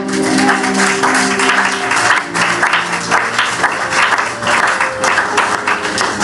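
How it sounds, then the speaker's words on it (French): A church congregation bursts into loud, sustained applause with scattered cheers, a dense wall of clapping that holds steady for several seconds. "Est-ce qu'on peut acclamer pour ce début de joie?"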